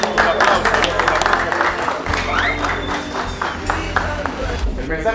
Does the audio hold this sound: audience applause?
yes